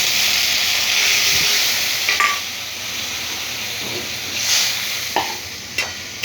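Whole pointed gourd cooking in poppy seed paste after water is added to the pan, a soft steady hiss and bubbling simmer with a few sharp clinks of a utensil, close up.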